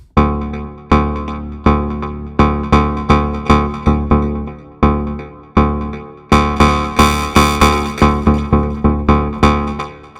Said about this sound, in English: Bass Brutal is a modern kind of digital or metallic bass sound